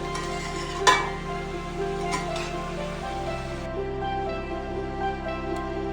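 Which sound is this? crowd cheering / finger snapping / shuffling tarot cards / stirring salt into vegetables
stirring salt into vegetables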